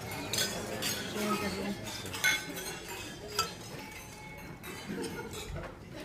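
Glasses and cutlery clinking among guests at a wedding reception during a toast, scattered light chinks over a murmur of voices and room chatter.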